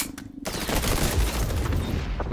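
Rapid gunfire in the Call of Duty video game, a dense run of loud overlapping shots after a brief quieter opening, continuing steadily with no voices.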